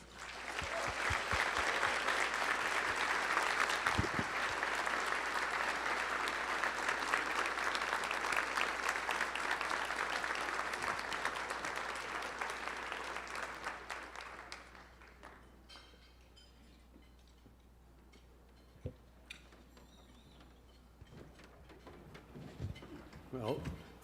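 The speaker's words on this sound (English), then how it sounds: "thank you for the applause" Audience at an Emmy Gold and Silver Circle honors ceremony applauding as an honoree is welcomed, a strong sustained wash of clapping that fades out after about fifteen seconds, leaving a quiet room with scattered small knocks and shuffles.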